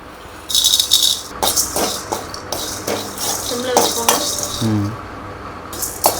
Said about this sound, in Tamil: இந்த மிளகு, இந்த சோம்பு, இந்த ஜீரகம், இதை மூணே வந்து இப்போ நம்ம வந்து வறுத்து அரைச்சிக்கலாம்